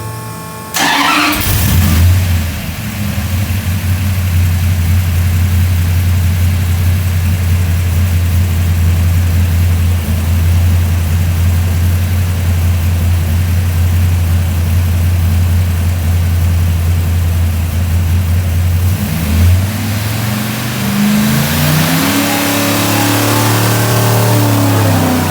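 A 580 hp small-block Mopar V8 roars loud and steady at high revs through a long dyno pull, holding a sustained heavy drone for about twenty seconds before dropping away into lower idle-like rumbles at the end.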